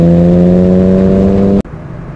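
A restored 1966 Jaguar E-Type 3.8 Coupé roars with a loud, steady, deep engine drone at close range. The sound cuts off abruptly and leaves a much quieter rumble.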